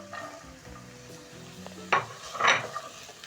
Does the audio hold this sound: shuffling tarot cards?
no